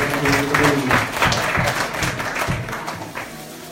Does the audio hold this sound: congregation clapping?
yes